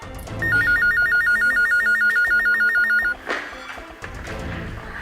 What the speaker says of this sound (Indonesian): Angkat tuh telepon, buruan.